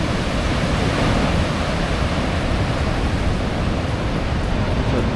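Steady, loud roar of surf breaking against rocks on the coast of Iceland, a dense continuous wash of water noise with no pauses or voices.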